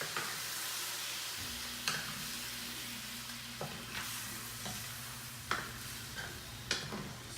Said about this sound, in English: Go ahead and give this a stir so I can have that extra flavor